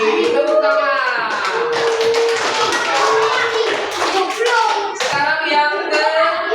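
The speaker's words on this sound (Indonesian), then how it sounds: "Tepuk tangan." Children in a classroom clap their hands in a quick rhythmic pattern while chanting together in Indonesian in loud, close voices.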